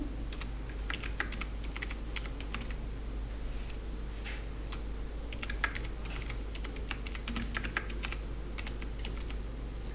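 Typing on a computer keyboard in short irregular bursts of light clicks, with a steady low hum underneath and no voices.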